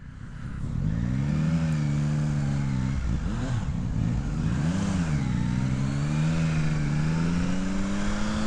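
A 2024 Yamaha Tracer 9 GT+ adventure motorcycle engine pulling hard under acceleration, its loud, close drone rising and falling in pitch through gear changes, with no voices.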